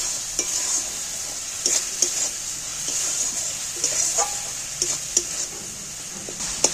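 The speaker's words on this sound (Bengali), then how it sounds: "এইবার আমি ভালো করে মশলাটাকে আবারও ভেজে নেব" Spice paste with salt and turmeric fries with a steady bright sizzle in a pan while a spoon stirs it, scraping in irregular clicks and taps throughout, close up with no talking.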